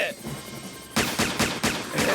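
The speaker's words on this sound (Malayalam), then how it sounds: "വെടിവെക്ക്." Cartoon gunfire rings out in a rapid series of four or five sharp, loud bursts after a quieter lead-in, like a short volley of shots.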